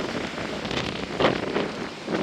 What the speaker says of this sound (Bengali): এখন অনেকটা ঝড় আর বৃষ্টি দেখো কতটা পরিমাণে ঝড় আছে এখন